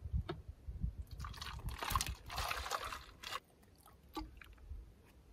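Water is poured into a portable camping shower outdoors on a windy day, a soft, uneven splashing and trickling in short bursts with quieter pauses between.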